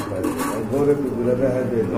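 Pigeons, including a pink-coloured pair, coo at a pigeon sale, with soft repeated coos beneath nearby conversation.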